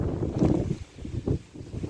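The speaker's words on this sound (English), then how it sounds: "wind's picked up a little bit, so I don't know how noisy it'll be" Gusty outdoor wind buffeting the microphone in a low, uneven rumble that swells and fades over two seconds, with no other sounds standing out.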